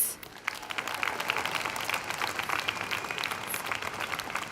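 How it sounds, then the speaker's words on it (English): A graduation commencement audience claps for the graduates, a sustained wash of applause from a large crowd that rises quickly and holds steady. "a round of applause for your hard work, your dedication, and your perseverance"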